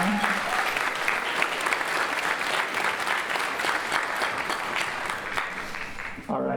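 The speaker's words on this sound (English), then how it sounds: "please round of applause for Krisha being here tonight" A concert audience at a high school fall band and orchestra evening breaks into loud, sustained applause for the vice principal, dense clapping throughout that stops abruptly near the end, with a voice briefly audible at the start.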